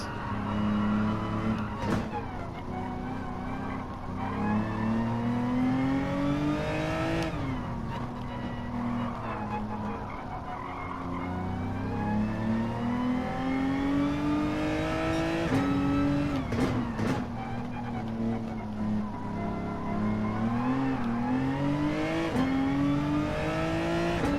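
A race car in Gran Turismo 7 on Sport Soft tires, its engine whining as it rises and falls through gear changes, with brief shifts and tire noise, steady and fairly quiet.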